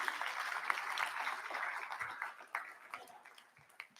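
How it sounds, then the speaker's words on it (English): Faint, distant applause rises from an audience of dental students at a school induction ceremony, a soft crackling spread of clapping that thins out toward the end. "Give yourself a round of applause, your students."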